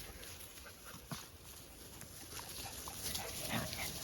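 A pack of several intact dogs out on a walk makes faint, scattered outdoor sounds, with soft whimpers and movement under steady background noise and no clear barking.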